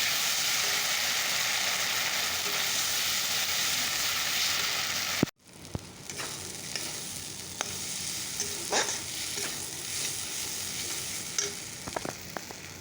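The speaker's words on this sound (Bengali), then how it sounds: "মশলাটা ভাজা হয়েই গেছে" Spices with turmeric powder frying in a pan with onion, tomato and mustard, first as a loud steady sizzle, then after a brief break a softer crackle with occasional stirring clicks and knocks.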